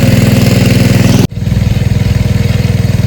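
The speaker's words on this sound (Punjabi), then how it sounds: "ਇੰਜਣ ਛੋਟਾ ਜਿਹਾ ਇੰਜਣ ਆ" A small engine runs a pump drawing water out of farm fields, chugging loud and steady at close range, then briefly cut off and quickly picking back up with the same rhythmic throb.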